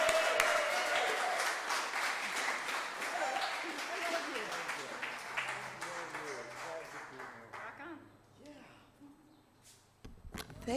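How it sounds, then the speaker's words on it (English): Clapping and cheers from a gathered congregation at a community weekly service, loud and dense at first, then thinning out and fading toward the end, with voices mixed into the crowd noise. "Thanks for cheering for me."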